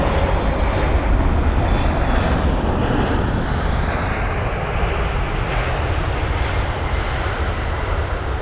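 A Latam Airlines jet arriving from Sao Paulo roars in to land at London Heathrow, a loud, steady broadband engine rush that slowly shifts in pitch as it passes.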